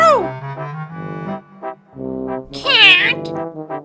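A voice imitates a cat, giving a series of meow-like calls with one louder, higher, drawn-out yowl near the end, close and loud.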